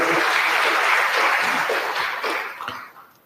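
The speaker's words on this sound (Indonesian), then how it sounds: "Tepuk tangan dulu." Audience of university students applauding a lecture, a dense burst of clapping that is loud at first and then thins and fades out over a few seconds.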